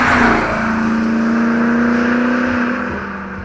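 A BMW F10 M5 with a 4.4-litre twin-turbo V8 accelerates hard, its loud, steady engine drone rising and holding close by for several seconds before easing off slightly at the end.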